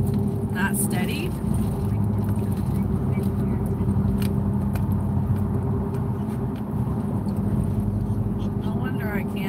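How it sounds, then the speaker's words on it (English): Steady engine and road rumble inside a car driving toward Daytona Beach, a constant loud low drone throughout with occasional faint handling noises. "We are in the car."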